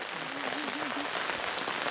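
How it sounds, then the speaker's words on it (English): Hail coming down outdoors in Scotland, a dense steady patter of small impacts spread across a broad hiss, fairly loud and continuous, with a faint brief tonal whine partway through. "It's hailing!"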